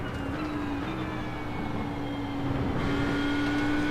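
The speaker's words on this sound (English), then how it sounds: "Full throttle and the car sticks." Race car engine held at full throttle in the sim racing game iRacing, a loud sustained drone with a steady pitch that rises slightly and grows louder near the end, with no talking.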